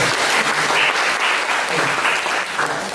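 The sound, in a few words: applause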